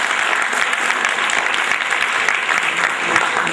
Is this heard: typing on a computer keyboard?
no